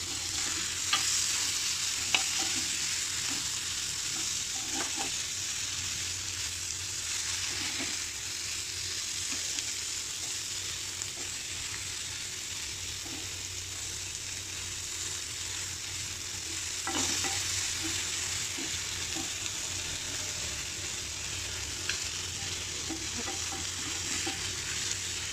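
Prawns frying in a pan while being stirred, a continuous bright oil sizzle holding steady throughout with occasional scraping and knocking of the spoon against the pan, close and without voices.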